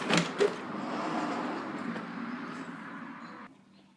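Router table stand on casters rolling across the floor, a steady soft rumble lasting several seconds with a couple of light clicks at the start, then fading out.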